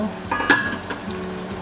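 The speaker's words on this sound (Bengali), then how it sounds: "জলটা ভালো ফুটছে, জলটা কমেও গেছে" A sauce for egg dhokar dalna bubbles and reduces in a pan, heard as a close steady sizzle and simmer with a few soft stirring scrapes, no voices.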